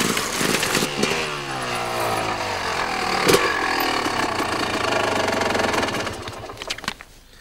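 An enduro motorcycle engine drones steadily throughout, with a brief sharp knock partway through and a rougher, fading tail at the end.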